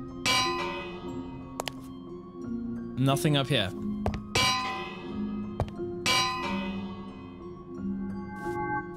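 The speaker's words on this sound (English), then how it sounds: "I ran around ringing the bell." A Minecraft village bell clangs repeatedly in bright, ringing strikes with long metallic decay, struck in irregular bursts close by while someone talks between and over the rings.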